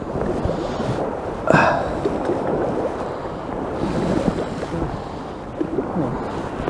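Wind blows steadily across a two-day match fishing festival, a broad, rushing roar close to the microphone with one sharper gust or knock early on.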